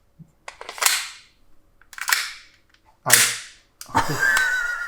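An SSP18 airsoft pistol fires on black gas: four sharp cracks at roughly one-second intervals. Each crack rings out briefly and then fades, and the last one trails into a longer sustained tail.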